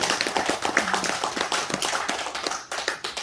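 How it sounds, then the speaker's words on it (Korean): Lecture audience clapping for several seconds, dense fast hand claps close by, tapering slightly near the end, with no talking over it. "박수 한번 치십시오"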